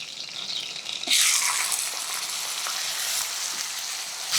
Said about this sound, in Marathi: बदामी रंगावर कांदा छान परतून घेऊया